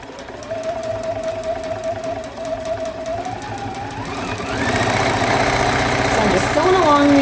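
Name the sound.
sewing machine stitching a selvage string block seam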